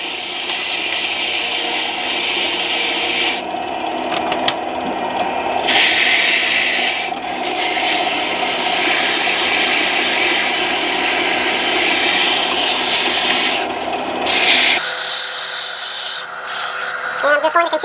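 Sandpaper worked by hand over a turned fishing rod grip makes a steady, close rasping rub that runs almost unbroken, with brief shifts in pressure and stroke.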